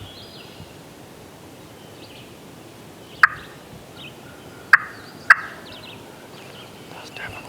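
Wild turkey longbeards gobble in the distance during a hunt, three sharp faint calls over a quiet outdoor background, with faint rustling and no talking.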